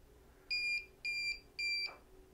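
Three separate electronic beeps, evenly spaced at about half-second intervals, sound from a key fob sync unit on a Solax Transformer e-bike and stand out clearly over a quiet background hum.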